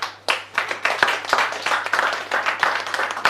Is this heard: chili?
no